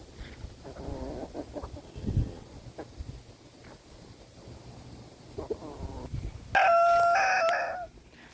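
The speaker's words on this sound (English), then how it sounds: "let's go ahead and go give the chickens all these scraps" Backyard chickens cluck close by while being fed kitchen scraps, with scattered calls throughout, and a rooster lets out a loud, drawn-out crow near the end.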